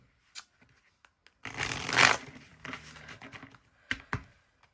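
Tarot cards are shuffled by hand in a quick riffling burst of papery flicking and rustling, preceded and followed by a few soft isolated taps, close and moderately quiet.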